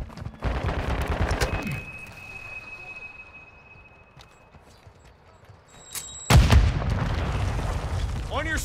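Rapid gunfire and explosions in Call of Duty Modern Warfare 2 play loud at first, fade to quieter game ambience, then return as heavy close bursts of fire with a voice speaking.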